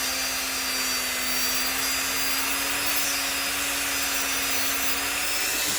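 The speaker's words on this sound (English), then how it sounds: "I'm going to shape the end of this with this diamond, with this polishing" A diamond polishing tool grinding the end of a wire for a wire-wrapped ring, a steady whirring hum with a constant motor tone and a continuous gritty hiss, close and unbroken.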